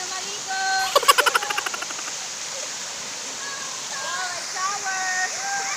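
Lambingan Falls waterfall roaring steadily as a constant broad rush of falling water, with a burst of rapid clicking early on and bird-like chirps and tones laid over the water noise.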